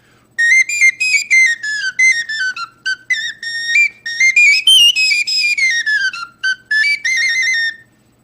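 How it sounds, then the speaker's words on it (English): A little tiny flute, a Hungarian folk instrument, plays a quick, bright, piping melody up close. The notes come as short runs and longer held tones, with brief gaps between phrases. "This is basically a little tiny flute, and it sounds exactly like that."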